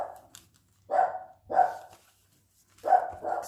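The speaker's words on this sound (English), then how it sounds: "Sorry if you can hear my dog barking." A pet dog barks three times at close range, each bark separated by a short pause, in an otherwise quiet room.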